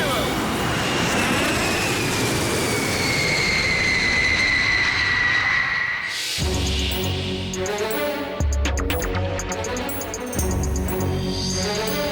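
A plane's engine drones steadily and loud for several seconds with a slowly falling tone, then gives way to busier mixed noise and what sounds like talk; the aircraft is climbing over a capital city.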